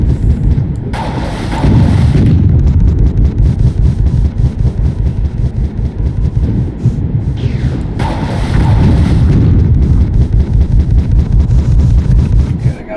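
Enemy gunfire in the Marathon Infinity shooter game, loud bursts of rapid shots in two long volleys separated by a quieter stretch, with a harsh rumbling texture.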